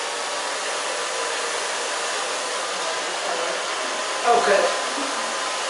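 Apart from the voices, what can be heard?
hair dryer drying front of short hair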